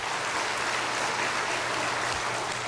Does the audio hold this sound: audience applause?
yes